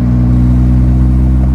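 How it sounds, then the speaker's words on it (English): A 1984 Hyundai Pony engine idles with a steady low rumble and a throaty carburetor burble, close and continuous throughout. "it's making that carburetor noise"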